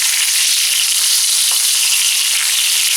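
Pork chops fry in a hot pan on a stove, giving a loud, steady broadband sizzle with constant crackle throughout, no voices present.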